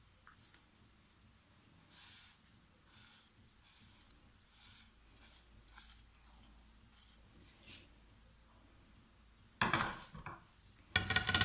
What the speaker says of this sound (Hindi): उसमें मैं ये पिसे हुए ड्राई फ्रूट डाल रही हूँ